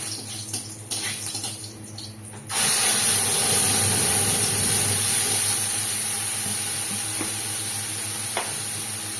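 Spice paste dropped into hot oil with cardamom, cumin and bay leaf for a Bengali moong dal and poppy seed dish, bursting into a loud, steady hiss of sizzling after a quieter start, continuing without talk.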